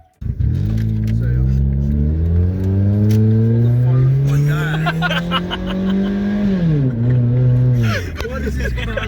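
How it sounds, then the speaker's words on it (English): Toyota Corolla with its exhaust unbolted, revving hard like a race car: a loud, raspy engine climbs steadily in pitch for several seconds, drops abruptly, then rises again, with no talk over it. "You just unbolted the exhaust and now it sounds like a race car"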